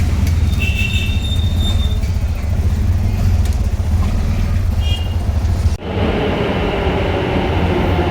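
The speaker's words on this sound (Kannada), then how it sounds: "ಮೆಟ್ರೋನು ಬಂದ್ಬಿಡ್ತು ಗೈಸ್ ಸಡನ್ನಾಗಿ" A metro train rumbles loudly nearby with wheels squealing, then an abrupt shift in sound as it comes in and slows.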